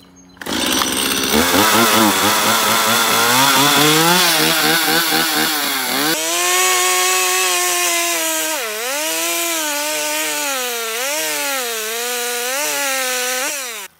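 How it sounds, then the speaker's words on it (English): Chainsaw, its chain unsharpened since last season, cutting a long angle along a length of wood: a loud, close engine whine that rises and dips in pitch as it bites, running continuously without talk. "So I went with my chainsaw"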